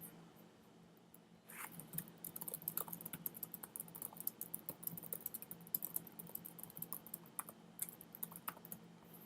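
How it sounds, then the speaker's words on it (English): Rapid, irregular typing on a computer keyboard during a lecture, the key clicks starting after a quiet second or so and then pattering on steadily and close, with a low room hum beneath and no talking. "Let me type that."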